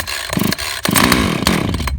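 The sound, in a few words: Husqvarna 450 Rancher chainsaw engine turning over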